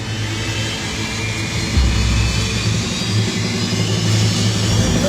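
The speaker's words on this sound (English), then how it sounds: "The jet engines power up just 200 feet from the fence." Jet engines on an airliner power up for takeoff about 200 feet from a beach fence, a loud, steady, broadband roar with deep rumble that holds and swells slightly throughout.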